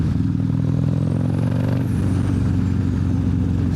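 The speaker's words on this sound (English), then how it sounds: "Engine purring." A turbocharged Harley-Davidson CVO motorcycle with a 135 engine idling up close, a steady deep throbbing rumble with a faint rising turbo whine, no voices.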